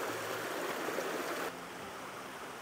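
A small stream beside a forest bike trail flows with a steady, close, gentle rushing hiss that drops slightly in level partway through.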